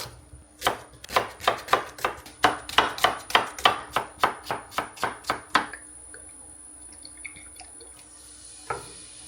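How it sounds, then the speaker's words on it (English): A knife chops an onion on a cutting board in a home kitchen, about twenty crisp, evenly paced strokes close by, then the chopping stops and leaves a quiet room with a faint steady hum and one last tap. "meanwhile going to chop my onion"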